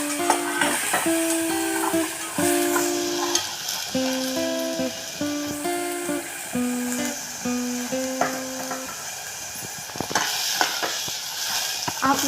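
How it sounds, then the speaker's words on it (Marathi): Green peas roast in a pan while a metal spoon scrapes and clinks against it again and again, over a constant low sizzle. "वाटाणा आपण ह्याच्यात भाजून घेऊया"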